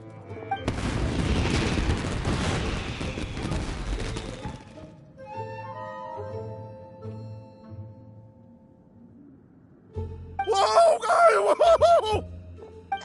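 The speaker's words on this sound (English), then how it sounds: "Yoimiya, this is turning into a bit of a fireworks display." Deep booming firework blasts in Genshin Impact, a loud rumbling barrage for several seconds, then quieter crackles and a later burst of sharp bangs mixed with game sounds.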